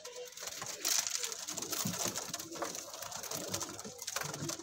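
Golden dab teddy cross pigeons at a sale loft in Amritsar coo softly in a steady low murmur, with a few sharper rustles and wing sounds over faint background noise.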